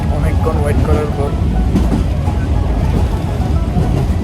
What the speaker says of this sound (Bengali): ফাইনালি আমরা এখন ট্রেনের মধ্যে উঠছি অনেকক্ষণ ওয়েট করার পর।